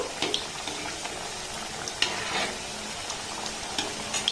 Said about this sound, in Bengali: গ্যাসের ফ্লেমটাকে লো টু হালকা মিডিয়াম দিয়ে এটাকে আমি ভেজে নিচ্ছি